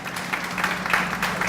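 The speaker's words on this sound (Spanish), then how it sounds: "Yo pediría un fuerte aplauso para la doctora Mena." An audience at an academic educational innovation event applauds, a dense, steady wash of clapping that fills the short moment without a break.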